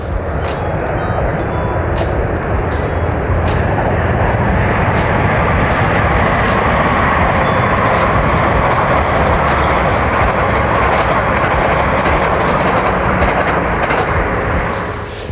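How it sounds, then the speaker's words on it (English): A train rumbles past close by, loud and continuous, with rhythmic clacking of wheels on the rails throughout. "hang on a minute, train coming."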